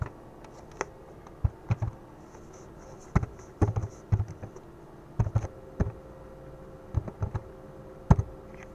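Code being typed on a computer keyboard: irregular clusters of crisp key clicks close up, with short pauses between bursts over a faint steady background hum, no talking.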